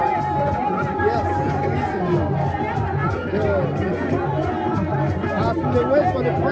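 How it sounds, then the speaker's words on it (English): Large crowd of Sierra Leonean supporters gathered outside United Nations headquarters in New York, a dense, continuous babble of many voices chattering close by with no single voice standing out. "we will walk through past this large crowd of Sierra Leoneans here assembled at the headquarters of the United Nations"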